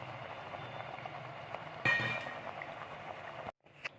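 Vada, lentil fritters in the Tirupati prasadam style, fry to a dark brown in oil with a soft, steady bubbling hiss. A brief clatter sounds partway through, and the clip ends in near silence.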